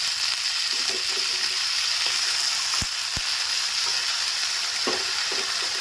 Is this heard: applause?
no